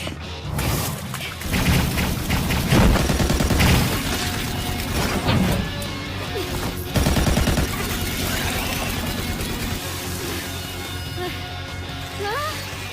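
Full automatic gunfire in an anime battle, with dense rapid bursts, crashes and shattering impacts filling a loud continuous action soundtrack.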